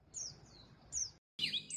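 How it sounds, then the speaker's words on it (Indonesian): A hill blue flycatcher (Cyornis banyumas) gives clear, high, sweet chirping phrases close by: two slurred notes, a brief silence, then a brighter burst, against faint background hiss. "Teledekan atau Hill Blue Hicketcher, dengan nama latin Cornis banyumas"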